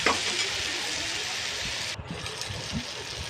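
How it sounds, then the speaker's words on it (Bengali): Chicken pieces frying in a pan for chili chicken, a steady loud sizzle with stirring scrapes and a brief dip near the middle, no speech. "দেখতে পাচ্ছ এরকম করে আমি ভেজে নিচ্ছি দেখো"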